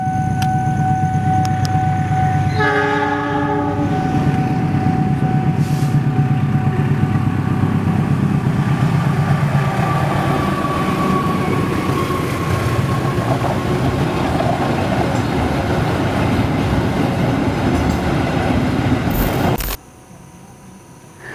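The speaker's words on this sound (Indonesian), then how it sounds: "Kereta lewat lagi." A train rumbles past nearby an abandoned station near Bogor in a long, steady roar with a horn-like tone early on, then cuts off abruptly near the end.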